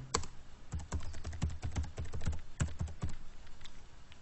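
Typing on a computer keyboard, rapid uneven bursts of clicking keystrokes close by, with short pauses between runs and no voices.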